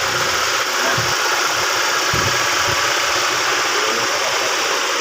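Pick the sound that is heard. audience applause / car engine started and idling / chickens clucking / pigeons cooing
car engine started and idling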